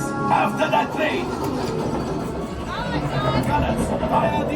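A rumbling train on the Star Wars Smuggler's Run ride at Hollywood Studios in Walt Disney World, a steady mechanical roar with whooshing effects and a busy babble of voices over it throughout.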